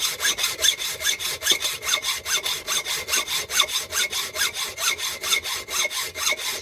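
Hand saw cutting through hollow metal stock on a lathe, a long run of quick, regular rasping strokes, roughly four per second, close and steady with slight shifts in tone and no talking.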